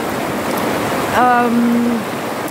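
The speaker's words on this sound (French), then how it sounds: "Je vous fais profiter un petit peu du bruit de la rivière et du paysage." A river flows in a continuous, close rushing wash of water under bright weather, with a brief tonal call rising over it midway.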